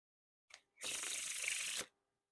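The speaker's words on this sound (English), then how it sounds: "So pretty good riffle shuffle" A brief tap, then a quick, crisp riffle shuffle of Bicycle playing cards fluttering together for about a second, close and alone.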